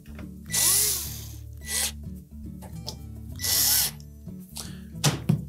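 Power drill driving the two mounting screws back into the surface burner switch of a GE electric range, fastening it to the control panel fascia: two loud whirring bursts with short pauses and softer handling clicks between them.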